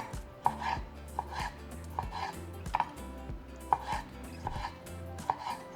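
Knife chopping Roma tomatoes into strips on a cutting board, a steady run of crisp close taps at an uneven rhythm, with no talk.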